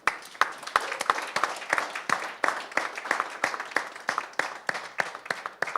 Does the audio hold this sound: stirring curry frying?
no